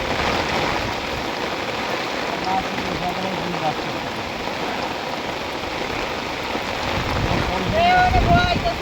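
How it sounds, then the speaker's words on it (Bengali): Heavy rain falls over a flooded field during a flood, where fishing nets are set. A dense, steady wash of rain hiss continues throughout and swells slightly louder toward the end. "দেখেন বৃষ্টি কীভাবে আসতে আছে"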